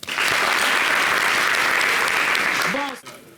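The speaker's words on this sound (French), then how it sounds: "Donc, on l'applaudit." An audience at a New Year's Eve television show bursts into dense, sustained applause for the sound engineer, which cuts off with a brief voice at the end.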